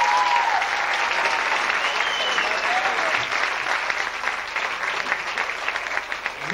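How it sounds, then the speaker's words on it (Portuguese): Sustained audience applause at a live presentation, dense steady clapping that fills the whole stretch, loud and close, with a brief voice near the start. "Um salve de palmas para o Sr. Jorge Vida."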